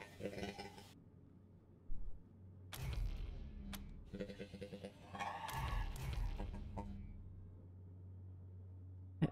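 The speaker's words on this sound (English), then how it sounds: "Cyborg chicken." Cyborg chicken in Wasteland 3 lets out short, faint clucks in scattered bursts between quiet gaps, over low game ambience.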